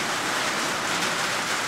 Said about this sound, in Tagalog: Ayan na, talagang ano, lumakas na yung ulan.